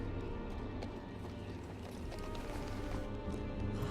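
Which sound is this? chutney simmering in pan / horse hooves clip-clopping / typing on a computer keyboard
horse hooves clip-clopping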